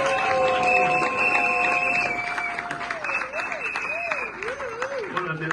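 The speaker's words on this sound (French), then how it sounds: "On les applaudit." Dense applause from a crowd at a doctoral thesis defence fills the room while a tonal whistle-like sound wavers above it, clapping continuing steadily to the end.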